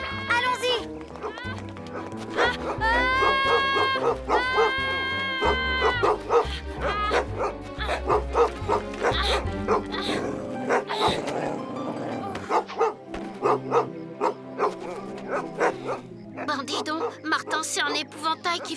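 A dog barks and yips in short bursts among excited voices and busy background sound, close and fairly loud.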